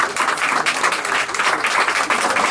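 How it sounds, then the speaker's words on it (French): Steady applause from an audience at a restaurant's first-anniversary celebration for a Moroccan dining spot, continuous dense clapping throughout without pauses, fairly loud and close. "on va tout de suite faire l'exercice et l'applaudir"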